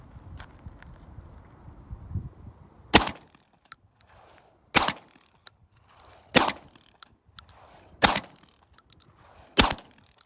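A Tac-12 shotgun loaded with Lambro Guard buckshot fires five sharp, loud reports, roughly evenly spaced a second and a half apart, with quiet mechanical handling noises between shots outdoors.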